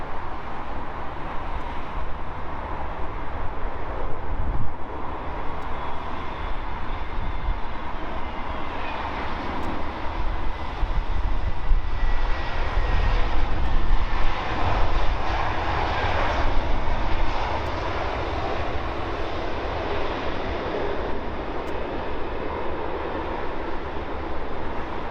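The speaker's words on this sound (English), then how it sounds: "British Airways from Paris Charles de Gaulle, the Airbus" A British Airways Airbus A321neo arriving at London Heathrow from Paris Charles de Gaulle, its steady jet engine roar sustained and fairly loud throughout, with no talk.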